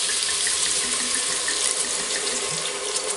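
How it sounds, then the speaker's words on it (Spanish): A splash of white wine hits hot oil in a pan while cooking chickpeas with chorizo, producing a loud, steady, close-up sizzling rush throughout. "Le vamos a poner un chorrito de vino blanco."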